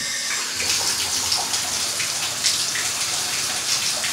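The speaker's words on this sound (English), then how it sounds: "Tub is working." Water running from a bathtub tap during a pre-move-in house check, a steady broadband splashing rush that stays even and fairly loud throughout, with no voices.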